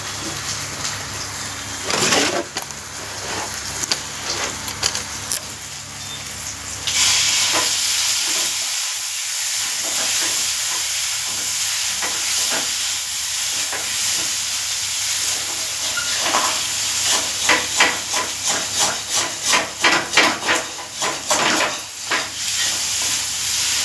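Large pieces of boiled potato are stir-fried for a dal curry, making a constant loud hiss of frying. A spatula scrapes and stirs the pan in bursts, and a quick run of rhythmic stirring comes near the end, with no talking.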